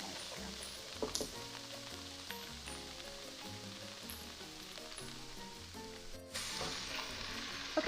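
Vegetables for a chicken pot pie saute in a pan, giving a soft continuous sizzle and crackle with occasional stirring knocks, steady throughout and a little louder near the end, with no voices.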